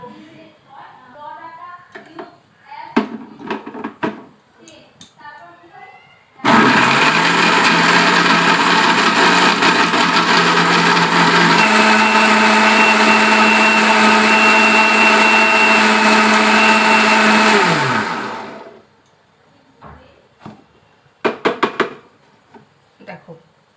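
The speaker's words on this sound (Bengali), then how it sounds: "এটা আমি এরপরে মিক্সিতে পেস্ট করে নেবো" A kitchen mixer grinder roars loudly for about eleven seconds as it grinds coconut, poppy seeds, white sesame and peanuts into a paste, its motor pitch shifting midway, with brief clattering and voices before and after.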